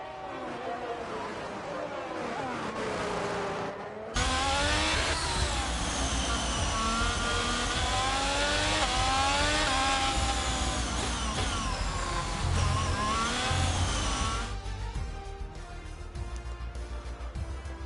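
Racing cars lapping a video-game track in Miami, with a loud, continuous engine whine that sweeps up and down in pitch as the cars pass. A commentator talks over it.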